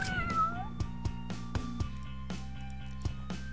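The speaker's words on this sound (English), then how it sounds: "Can I punch the cat?" A cartoon cat meows inside the video game Epic Battle Fantasy 4, one rising then falling call up front over looping game music with repeated thumping battle hits.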